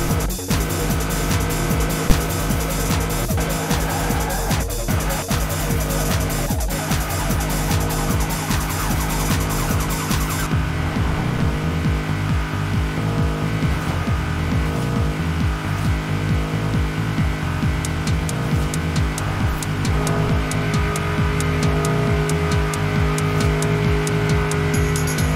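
A 1953 Chevy Corvette driven in Forza Horizon 4, its engine droning steadily and loud throughout, with tire squeal and skidding mixed in as the car races along.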